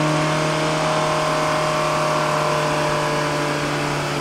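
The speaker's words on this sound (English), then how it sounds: "You can hear the pitch of the bike," A 2017 Suzuki GSX-R1000 motorcycle engine revs steadily with its exhaust valve shut, giving a loud, continuous, close-up mid-pitched drone with strong harmonic tones and no speech.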